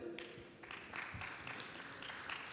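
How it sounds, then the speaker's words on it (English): An audience at a company culture talk claps together, a soft, steady wash of applause heard from a distance for the full stretch, with no clear voices over it. "So a round of applause for Mary"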